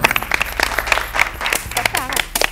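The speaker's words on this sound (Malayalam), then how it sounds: "നല്ലൊരു കൈയടി" Studio audience applause on a Malayalam television game show, a burst of clapping running throughout and mixed with voices talking over it.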